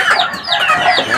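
A small pet chick clucks and squawks close by in quick repeated bursts, loud and busy, with other fowl calls mixed in around a backyard feeding.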